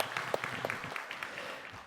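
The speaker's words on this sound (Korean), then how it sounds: "인사하실 때 박수로 환영해 주시기 바랍니다" A church congregation at a Sunday service claps to welcome a newly appointed minister, a moderate, steady patter of many hands that slowly thins out over about two seconds.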